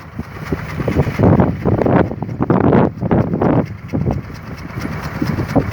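Gusts of wind buffet the microphone in loud, rumbling bursts that rise and fall irregularly, with no voices present.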